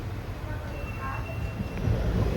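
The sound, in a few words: Shivamogga to Tumkur train at Kadur junction railway station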